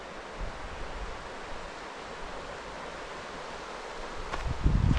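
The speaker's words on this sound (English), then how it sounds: "That's a snowy river." A snow-fed river along an alpine trail rushes with a steady broadband wash of flowing water, constant and moderately loud, with a few wind thumps on the microphone near the end.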